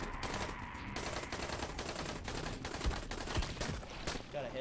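Rifle gunfire in the video game Dying Light: a dense run of rapid shots, fairly quiet and even in level over a few seconds, with a couple of heavier thumps.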